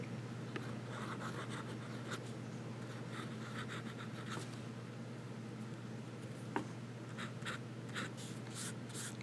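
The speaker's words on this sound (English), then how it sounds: "let's do a little bit of writing" A fountain pen writes on paper in quiet, close, continuous scratchy strokes with brief louder scrapes, set against a low steady background hum.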